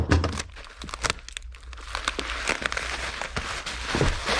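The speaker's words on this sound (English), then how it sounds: "I am getting the bubble wrap ready" Bubble wrap crinkles and crackles in irregular bursts as an item is wrapped up for shipping, close and fairly loud, with occasional sharper pops and rustles.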